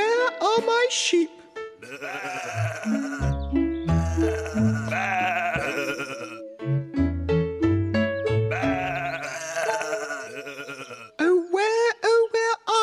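Sung, wavering bleats over a bouncy music track, repeated several times, loud and close, with a singing voice imitating sheep.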